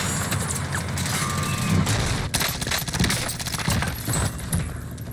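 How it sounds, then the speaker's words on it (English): Dense automatic gunfire rattles almost nonstop in Call of Duty Warzone, loud sustained bursts with booming impacts layered over continuous battle noise. "You shoot your entire magazine at my Bertha?"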